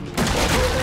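Handgun gunshot in the video game Resident Evil 7, a sudden loud blast after a brief quiet moment, followed by a sustained booming, rumbling tail.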